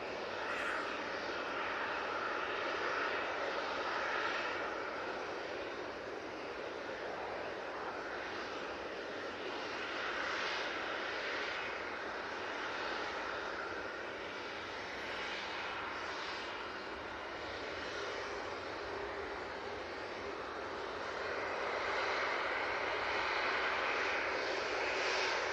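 An airplane at Manchester Airport roars steadily in a broad, sustained engine rumble, swelling gently over nearly half a minute, heard from some distance with no voices.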